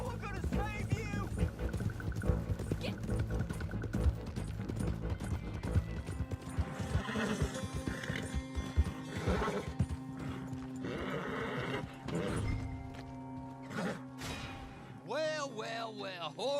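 A horse in Red Dead Redemption 2 whinnies and neighs several times amid clip-clopping hooves, close and clear, with game voices speaking over parts of it.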